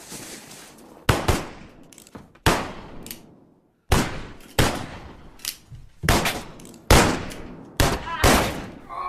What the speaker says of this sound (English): I love the way guns sound here. Quick, violent pops,